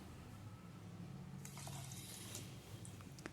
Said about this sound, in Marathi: यामध्ये मी चार वाट्या पाणी घालणार आहे